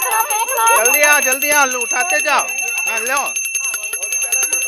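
A hand bell rings continuously at a Christmas celebration in a flat, its bright metallic tone carrying throughout while people talk loudly nearby.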